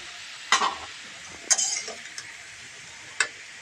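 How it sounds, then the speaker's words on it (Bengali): Potatoes frying in a pan with salt and turmeric, heard as a few sharp stirring scrapes and clinks over a low sizzle, with quiet gaps between the strokes. "একটু লবণ দিচ্ছি, আর একটু আমি হলুদ দেবো ওর মধ্যে, দিয়ে এটাকে আমি ভালো করে ভেজে নেব।"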